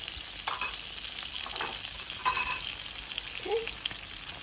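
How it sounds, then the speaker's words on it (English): Garlic sautés in a pan for camarones al ajillo, a soft, steady sizzle with a few light stirring clicks and scrapes scattered through it. "Let's saute this for about 2 minutes."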